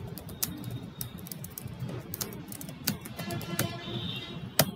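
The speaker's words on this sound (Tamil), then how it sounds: "இதில் வந்து ஹலோ வேர்ல்ட் அப்படின்னு டைப் பண்ணுறேன்" Fingers tap out short text on a computer keyboard, a run of quick, irregular key clicks with a few sharper strikes, close and clear over a faint background hiss, no talking.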